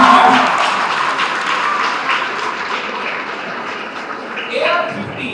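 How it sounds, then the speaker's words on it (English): An audience at a student results felicitation event applauds steadily, a dense wash of many hands that holds throughout and fades slightly toward the end. "So the clap shouldn't be stopped."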